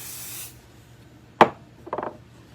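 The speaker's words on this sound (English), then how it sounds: "I might add just a little more spray to the back of this" Chroma Mist spray misted onto paper for gel plate printing: a short hiss at the start, then a sharp close spritz and a quick burst of smaller pumps, with no talk.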